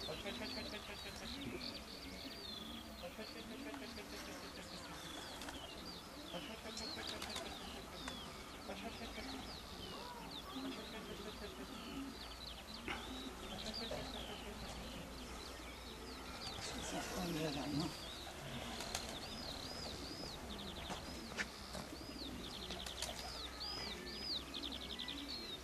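A racing pigeon sits at its loft and will not go in, giving repeated soft, low cooing calls over a faint background of outdoor noise and distant voices.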